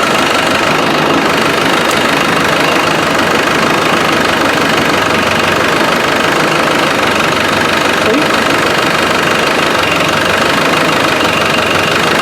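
A Land Rover 300Tdi diesel engine with air in the fuel idles steadily up close, its knocking rumble hunting, surging and dipping unevenly throughout without settling.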